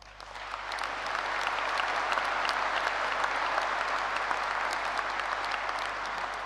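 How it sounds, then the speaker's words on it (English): A large audience at a university graduation ceremony breaks into sustained, dense applause for the university staff, a steady wash of many hands clapping that swells in and holds loud throughout. "A thunderous round of applause for all the university staff."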